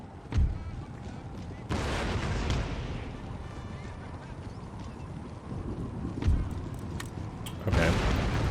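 Canister shot fired from artillery in the Empire: Total War strategy game, with loud booming blasts near the start, around six seconds and again at the end, over a dense battlefield din and a talking voice.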